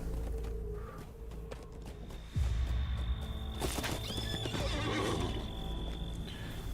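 A horse in The Lord of the Rings Online neighs and snorts, followed by hoofbeats clopping on the ground, fairly close and loud, with no talk over it.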